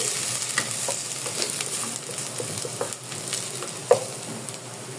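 Garlic sizzles in a hot pan, a close crackling fry broken by stirring scrapes and a sharp clink near the four-second mark, with no talking.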